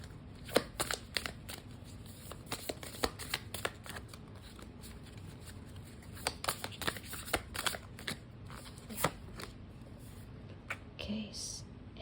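A tarot deck is shuffled by hand in soft, irregular bursts of riffling and card slaps, close and quiet, with a few louder snaps and a pause near the end.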